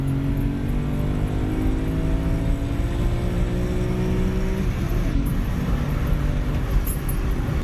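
BMW E46 M3 pulls at full throttle in second gear, its engine tone climbing steadily in one long loud rising drone before the revs drop off, heard from inside the car.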